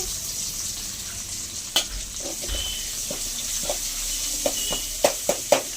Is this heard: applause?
no